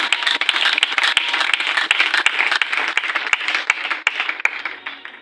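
A church congregation claps in steady sustained applause, dense overlapping hand claps filling several seconds at a constant level, close and lively, slightly thinning toward the end.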